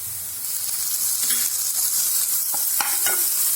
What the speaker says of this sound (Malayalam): ഇനി ഇതിന്റെ റോസ് സ്മെല്ല് മാറുന്ന വരെ നമുക്ക് ഇതിനൊന്ന് സോട്ട് ചെയ്തെടുക്കാം.